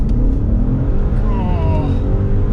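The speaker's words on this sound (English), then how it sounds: "Now, hard on the brake, full throttle on the gas, and lift brake." A Maserati Levante Trofeo SUV launching hard under launch control, its engine roaring loud and close with a rising whine as it accelerates.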